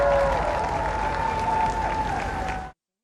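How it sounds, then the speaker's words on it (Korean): A large crowd applauds in the rain as Queen Elizabeth II's coffin procession passes Buckingham Palace, a steady, dense clapping wash with a faint tonal hum running through it, cutting off abruptly near the end. "비가 오는 날씨에도 여왕을 배웅하기 위해 찾은 수많은 시민들이 박수를 치며 애도의"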